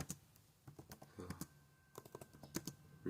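Computer keyboard typing during a Brawl Stars gaming session: rapid, irregular clicks and clacks of keys in quick bursts, fairly close and steady, with no talking.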